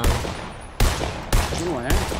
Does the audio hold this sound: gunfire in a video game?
yes